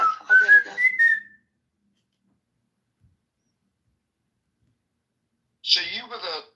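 A person whistles a short rising tune, near and clear, then a long silence follows and a second burst of whistling or voice sounds at the end.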